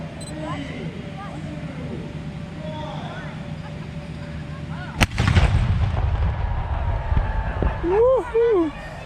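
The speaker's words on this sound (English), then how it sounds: "this cannon is gonna be going off" Cannon fired at the start of a half marathon at a Civil War battlefield site, one sharp, loud boom cutting through crowd chatter, followed by cheering and whistles.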